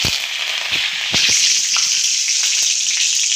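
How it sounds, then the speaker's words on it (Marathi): Mustard seeds and curry leaves crackle and sizzle in hot oil for tempering, a steady close hiss punctuated by sharp pops and spits, loudest just after the leaves go in. "तर चला आता आपण फोडणी टाकून घेऊ। पहिल्यांदा मोहरीची फोडणी देऊ।"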